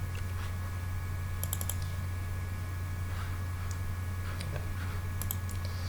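Soft, scattered keyboard typing and mouse clicks on a computer come in short bursts over a steady low electrical hum, close and quiet.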